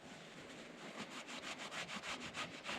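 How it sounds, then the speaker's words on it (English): Excess silicone gasket is scraped off a housing during an oil pump replacement on an off-grid farm in Portugal, a quiet, steady run of rhythmic rasping strokes close by, growing more regular toward the end. "Just trying to get the excess bits of silicone gasket off."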